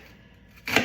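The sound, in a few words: knife chopping an onion on a cutting board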